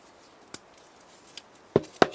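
A pair of blunt garden shears snips the top off a plant cutting outdoors. One faint cut comes first, then two louder, crisp snaps close together near the end, each standing alone against quiet.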